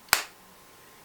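Single crisp snap of an original Apple AirPods case lid clicking shut, close and sharp with a quick fade into quiet.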